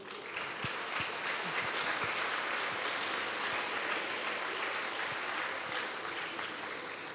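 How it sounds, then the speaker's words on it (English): Steady, sustained applause from a large audience at a school awards ceremony, a dense wash of clapping that holds at an even level throughout. "a really big round of applause"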